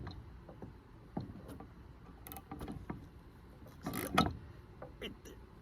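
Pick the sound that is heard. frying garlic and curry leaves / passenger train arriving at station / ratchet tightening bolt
ratchet tightening bolt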